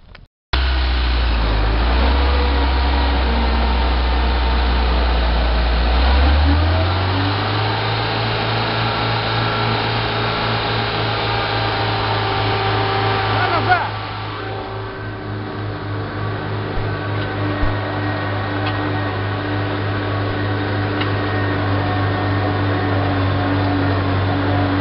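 A homemade tractor engine runs steadily while the machine drives along a potato field during weeding, a loud continuous low drone that settles after a rev change and carries on alone without talk.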